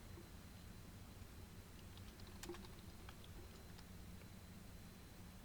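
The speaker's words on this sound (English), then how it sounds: "I'm gonna type in the chat" Typing on a computer keyboard during a Kerbal Space Program live stream: a short run of faint, sparse key clicks over a steady low background hum, with no talking.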